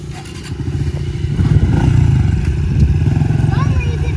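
A child's dirt bike drones steadily with a pulsing, revving engine as it carries over a jump on a dirt track, loud and close, with some scraping and clatter; people can be heard speaking over it.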